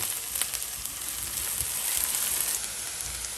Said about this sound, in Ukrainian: І смажимо її до прозорості.